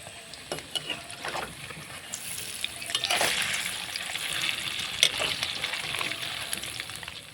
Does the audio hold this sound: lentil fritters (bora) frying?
yes